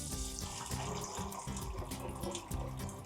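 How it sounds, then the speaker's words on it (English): Water runs steadily from a tap, poured over dried beans in a pot to cover them for vegetarian refried beans; a continuous close splashing and gurgling with no voices. "we're gonna just cover them with water"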